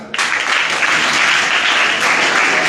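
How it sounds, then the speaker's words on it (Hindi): A burst of loud applause from an audience of students at a competition winner announcement, starting suddenly and staying steady throughout. "थैंक यू, जोरदार तालियां"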